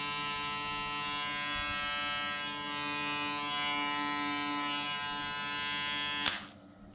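A TPOB Skull Black Out electric hair shaver hums with a steady, close, continuous buzz that shifts slightly in pitch partway through, then cuts off with a sharp click near the end, with no talking.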